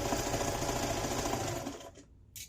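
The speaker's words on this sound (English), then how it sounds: "start right there and sew 1/4 inch, seam allowance all the way down" A sewing machine stitches a quarter-inch seam on a casserole-size self-binding hot pad, whirring steadily and close for about two seconds before stopping. A brief soft noise follows.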